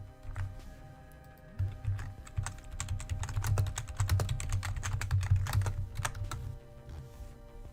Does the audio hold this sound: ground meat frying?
no